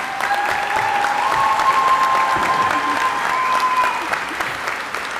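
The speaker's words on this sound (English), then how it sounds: "Let's give her another round of applause." An audience at a university commencement ceremony applauds, a dense, steady wash of clapping that holds strong for several seconds before tapering slightly.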